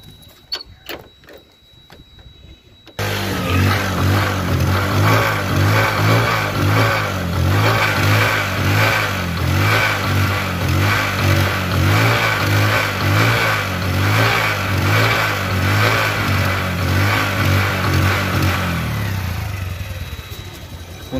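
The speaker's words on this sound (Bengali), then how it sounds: "এখন দেখাবো হচ্ছে বাইকটির সাউন্ড কোয়ালিটি এবং পারফরম্যান্স" A used Bajaj CT 100 motorcycle engine starts after a few quiet seconds of handling, then runs loud and close with a steady, pulsing exhaust and light revving, dying away at the end.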